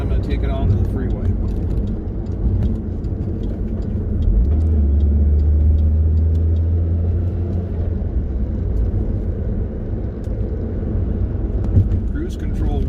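A 2007 Pontiac Solstice GXP heard from inside as it drives through a neighborhood, a steady low engine and road rumble with a brief swell in revs midway, continuous and fairly loud.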